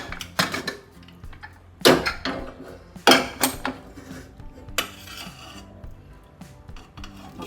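A pressure cooker of cooked yam is opened after its steam has been released: a few sharp metallic clanks and scrapes of the lid against the pot, separated by short pauses, close and fairly loud.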